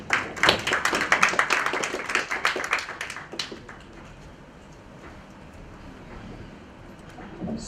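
A conference audience claps, starting as a lively burst of many hands that tapers within a few seconds into scattered claps and room noise, with a faint late clap.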